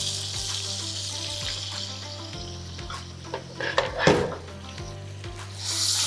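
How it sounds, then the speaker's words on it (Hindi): Chicken fries with a spice mix in a pan: a constant close sizzle with a few scraping and stirring knocks partway through. "सुठे तरीक़े सां फ्राई कंदासीं"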